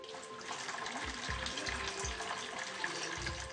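Warm water runs from a tap for soaking feet, a steady close splashing hiss with a few soft thumps underneath.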